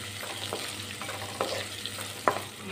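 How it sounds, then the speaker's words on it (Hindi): An onion frying in oil for masoor dal khichdi gives a steady close sizzle, with occasional spoon scrapes and a couple of sharp clinks against the pot. "तो अब इसमें मीडियम साइज़ का एक प्याज डाल के इसको भी लाइट ब्राउन कर लेते हैं।"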